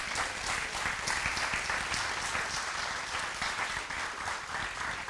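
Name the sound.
audience applause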